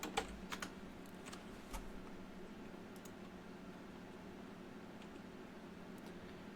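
A computer keyboard is used to type a username: several quick, faint key taps land early on over a quiet room hum, then the keys fall silent.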